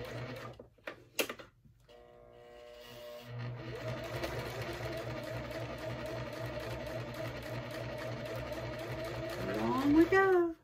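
Sewing machine slowly stitching a bag, a steady rhythmic whir and needle tapping running for most of the stretch after a few short starts, with a voice talking over it.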